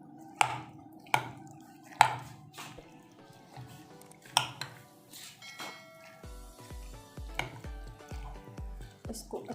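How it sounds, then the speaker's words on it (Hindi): Chana chaat is tossed with chaat masala in a bowl. A spoon knocks against the bowl several times, then gives way to rhythmic wet mixing squelches, all close and clear, while a voice talks over part of it. "और इसमें जाएगा चाट मसाला। इसको अच्छे से मिक्स करेंगे।"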